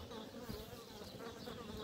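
Honey bees in a beehive give off a dense, steady buzzing hum, faint and continuous and without a break, with no one talking.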